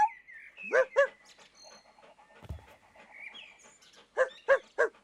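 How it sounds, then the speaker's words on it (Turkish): A dog barks in short bursts, a few at the start and a quick run of three near the end, with quieter chirps and rustling in between. "Köpek sesini insan sesine çeviremiyor."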